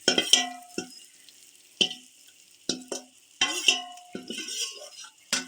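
Grated raw mango is stirred into pickle masala in a pan, heard as separate scraping, clinking strokes of a spoon against the pan with short pauses between them.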